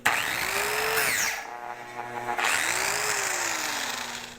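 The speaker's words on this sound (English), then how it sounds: "you can hear how easy it is to bog it down. I mean, you can pretty much stop it by pushing down hard enough on it" A budget Harbor Freight angle grinder fitted with a flap disc whines at full speed, then drops sharply in pitch and nearly stalls as it is pressed hard into the work, then climbs back up. The motor is loud and close, and no one speaks.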